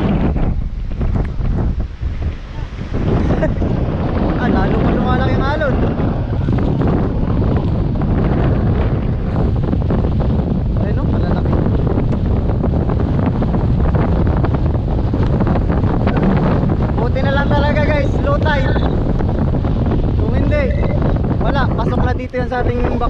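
Strong wind roars and buffets the microphone continuously beside growing waves, with a rushing, surf-like background and occasional voices underneath.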